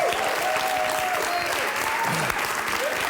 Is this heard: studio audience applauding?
yes